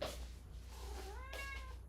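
A cat meows once, a clear rising-then-falling cry in the second half of the short clip, over a steady low background hum with no talking.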